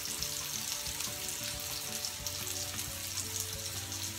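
Onion burgers fry together in a single pan, giving a dense, steady close sizzle that stays even throughout, with no voices.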